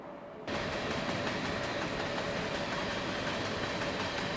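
A train rolls along steadily in the video game Train Simulator, a continuous even rumble with faint rhythmic clatter that begins abruptly after a brief quiet moment and holds at a moderate level without any voices.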